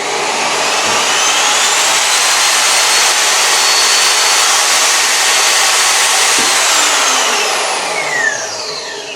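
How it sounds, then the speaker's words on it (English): A paddle mixer in a power-tool warehouse runs as a loud, steady, high-pitched motor whine for about eight seconds before winding down at the end. "Paddle mixer there, Al."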